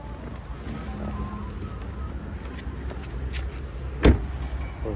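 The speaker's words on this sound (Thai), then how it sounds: "ก็ถอดหัวชาร์จออกจากรถ" Charging connector pulled from a BYD Atto 3 electric car, one sharp close click-clunk standing out over steady low ambient hum and road background.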